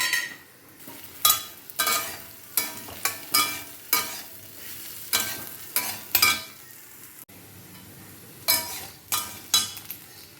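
Raw banana pieces frying in a pan for a spicy fry, with a soft sizzle underneath and a dozen or so crisp scraping, clinking stirs of a spoon against the pan, loud and close.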